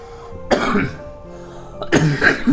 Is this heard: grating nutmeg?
no